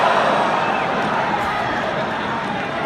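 A large rally crowd for Donald Trump at Winthrop Coliseum in South Carolina makes a steady, dense roar of cheering and babble that fills the arena without a break.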